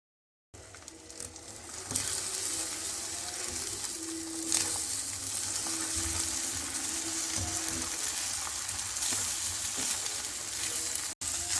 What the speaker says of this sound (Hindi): नॉन स्टिक पैन में 2 टेबलस्पून ऑयल का डालेंगे और अंडों को हल्का सा फ्राई करेंगे